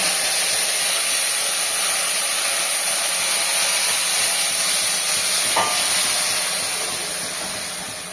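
Steady, loud sizzling hiss of oil frying in a pan, continuous and close, with a brief clink partway through before it slightly fades.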